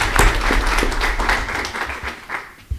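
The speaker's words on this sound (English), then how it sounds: "One more round of applause." A school board meeting crowd applauds with steady, dense clapping that fades slightly toward the end, a few louder individual claps standing out.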